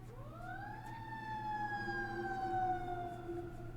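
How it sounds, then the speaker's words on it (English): An ambulance siren from the video game Corpse Party Blood Drive wails with a slowly falling tone, sustained and fairly faint over a low background hum, with no talking. "It's the ambulance coming for Satsuki!"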